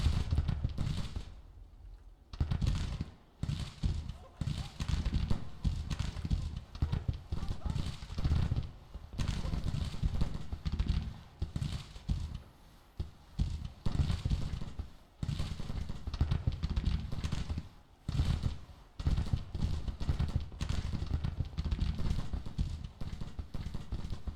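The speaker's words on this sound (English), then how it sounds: "That was just like a random horse that got sniped." Hooves pound in a rapid galloping rhythm amid game noise and bursts like gunfire, with people talking over it, in the Civil War strategy game Grand Tactician.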